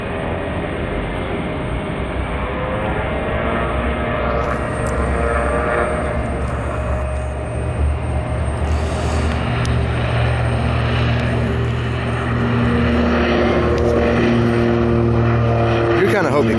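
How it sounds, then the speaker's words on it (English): Propeller plane taking off at an airport, a loud, steady engine drone with a sustained, rising hum that grows stronger toward the end, while someone talks over it. "We got this propeller plane that's going to be taking off here right about now."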